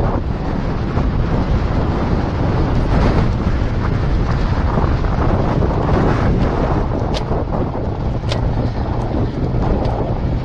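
Heavy, constant wind roar buffeting the microphone while cycling fast downhill on a Motobecane road bike along a mostly 2% grade, loud and unbroken throughout.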